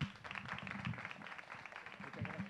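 Audience clapping at a talent show gala final, a modest spatter of applause from a room, fairly faint and continuous for a couple of seconds.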